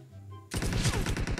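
Gunfire in a hide-and-seek round of an online shooter game: a sudden loud rapid burst of close shots following a quiet lead-in, the rattling reports continuing to the end.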